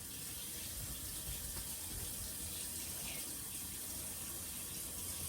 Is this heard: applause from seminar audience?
no